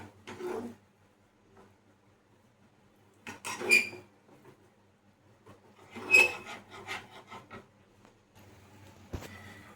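Scraping and stirring of rice with mango pulp and a splash of water in a pot, a Bengali mango kheer sweet, heard in three separate bursts of rasping, rubbing strokes with quiet gaps between, close and moderately loud.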